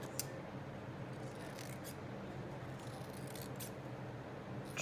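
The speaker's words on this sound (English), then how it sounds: "And then I'm just going to get my scissors" Scissors snip and trim paper for a bee-themed craft tag, a few faint, light cuts scattered over a soft, steady background hiss.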